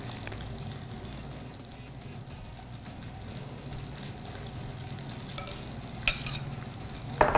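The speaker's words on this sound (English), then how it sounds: "I'm just going to pour a little bit of this egg mixture over the top of this" Egg mixture is poured over a chicken dish, giving a soft continuous splashing pour against a steady sizzling, stirring background, ending with a few small clinks; no one speaks.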